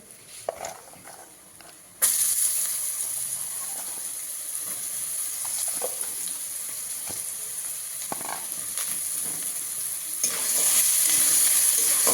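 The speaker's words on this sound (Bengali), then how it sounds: "এবার এই বড়ি ভাজার মধ্যে দিয়ে দেবো।" Brief stirring clatter, then a loud hiss as lentil dumplings drop into hot oil, settling into steady sizzling frying that swells again near the end.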